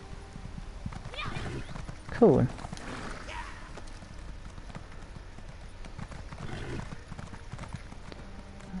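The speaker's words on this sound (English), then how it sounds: "So my Sorrel horse, which I've never ever had before, because usually I have to buy it with money in game. It's a chestnut horse." A chestnut Sorrel horse in the game ESO clops along with steady hoofbeats and lets out one clear whinny early on, while a person talks over it.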